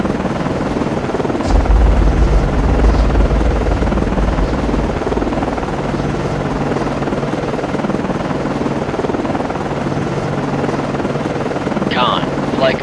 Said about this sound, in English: Con, Flyco, aircraft landing.